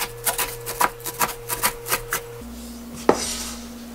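A knife taps rapidly on a cutting board, chopping mugwort for mugwort rice cakes in about ten quick, evenly spaced chops, then stops with one louder knock over a low electrical hum.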